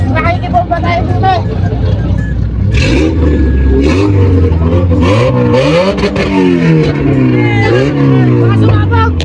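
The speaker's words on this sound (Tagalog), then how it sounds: "Sasakyan!" A car engine revs repeatedly in loud rising and falling sweeps at a lively night gathering, with a crowd talking and shouting throughout.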